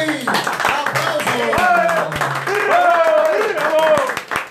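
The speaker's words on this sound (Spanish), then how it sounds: "¡Hey! ¡Aplauso, please!" Scattered hand claps from a live interview audience, sparse and uneven, mostly buried under excited talking and shouting voices that continue throughout.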